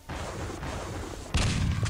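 Shotgun blasts in the video game Quake Live, heard during a competitive match: a steady roar of game action, then a sharp, loud blast near the end, with a quick follow-up crack.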